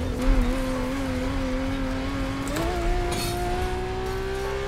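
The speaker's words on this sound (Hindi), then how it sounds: "डैम भाई ये है गाड़ी का साउंड भाई बहुत सही यार" A Ford Mustang GT500 engine in The Crew Motorfest holds a steady, loud drone, then climbs in pitch as it revs higher, with a brief surge midway.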